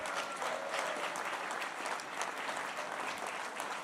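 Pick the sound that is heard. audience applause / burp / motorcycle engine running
audience applause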